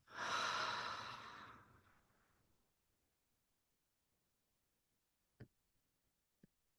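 A single deep breath out, a long breathy exhale that starts strong and fades over about two seconds into near silence, followed by two faint isolated clicks.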